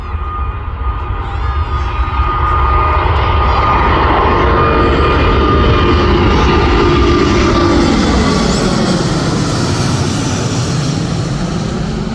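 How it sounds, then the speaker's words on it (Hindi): Loud, continuous roar of jet aircraft engines at close range as airplanes take off, a broad rushing drone that swells and holds steady throughout. "बहुत ज़्यादा आवाज़ थी जहाज़ों की जो वो टेक ऑफ कर रहे थे।"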